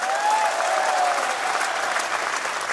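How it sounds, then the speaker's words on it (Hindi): Crowd applauding at an outdoor political rally in rural Jaipur, India: loud, sustained, dense clapping from a large audience, continuous throughout with a faint voice over it. "जान जान लगा के ताली बजाना"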